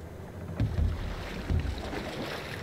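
A Viking longship glides across the water in Assassin's Creed Valhalla, with low splashing wash and wind noise, a couple of heavier surges standing out, and no talk.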